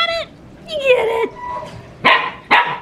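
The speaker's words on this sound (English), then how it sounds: "it's like she hears the sound of her own bark" A husky puppy lets out high yips and short barks, a few sharp bursts spaced apart, close by, with no talk over them.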